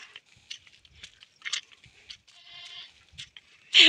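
A goat bleats, a wavering cry followed by a louder one at the end, amid quiet rustling and small clicks.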